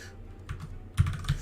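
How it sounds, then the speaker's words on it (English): Computer keyboard keys pressed during a timed game-programming session, a handful of soft clicks with a couple of louder keystrokes near the end, close up, without speech. "Keyboard"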